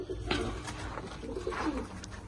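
Turkish tumbler pigeon chicks coo in soft, throaty bursts, close by, repeating several times over about two seconds.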